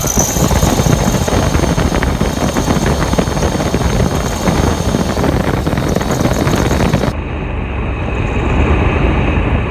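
A Jeep Grand Cherokee engine runs steadily during an air conditioning refill, a loud continuous idle with a rough broadband drone and some wind rumble on the microphone, dropping slightly in level near the end.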